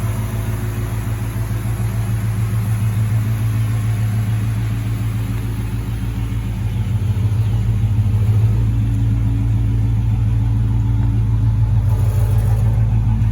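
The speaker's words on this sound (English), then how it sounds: "Nice little 305 with Edelbrock carb on it. Runs out good, runs strong." A 1949 GMC 100 truck's Chevrolet 305 small-block V8 with an Edelbrock carburetor idles steadily with a deep, loping rumble, close and continuous, swelling slightly partway through.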